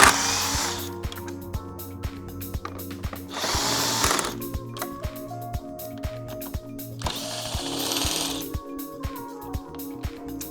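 On a 2021+ Ford Bronco, a power tool drives out 10mm and 8mm headlight bolts. The motor whirs in several bursts of about a second each, with rhythmic ratcheting clicks ticking steadily between them.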